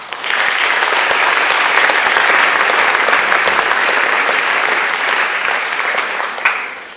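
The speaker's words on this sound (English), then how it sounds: "So please give everybody a round of applause" Banquet audience at a school athletic awards dinner bursts into sustained, loud applause that fills the room steadily for several seconds before tapering slightly near the end.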